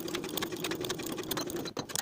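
A sewing machine stitching the bottom hem edge of a lined coat, a quiet, fast, even mechanical whir and tick running continuously with one brief pause near the end.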